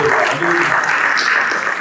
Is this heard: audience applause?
yes